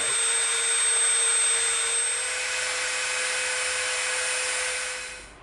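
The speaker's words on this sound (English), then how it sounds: "we're gonna put in a really super skinny little bit here on the Dremel" A Dremel rotary tool fitted with a very thin bit whines at a high, steady pitch as it cleans up EVA foam, close and continuous, then fades away at the end.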